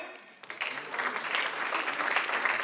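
An audience at an agile teamwork talk applauds, a moderately distant round of clapping that starts after a brief quiet moment and continues steadily to the end.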